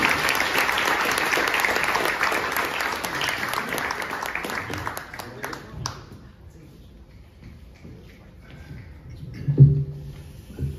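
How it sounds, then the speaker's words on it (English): Audience applause fills the room at an evening talk on synth and disco history, loud and sustained for several seconds before thinning into scattered claps and fading under murmur. "let's give them a round of applause."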